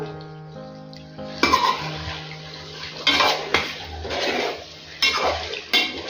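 Spoon clattering and scraping around a pot of chicken dum biryani as the pieces are mixed, several loud metallic strokes over a low steady hum.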